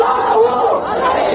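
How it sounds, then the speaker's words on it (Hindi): A large crowd at a rally in Majalgaon village, Beed, Maharashtra chants slogans loudly and close by, voices rising and falling together in a rough, rhythmic shout. "रैली में पहुंची भीड़ ने भी जमकर नारेबाजी की"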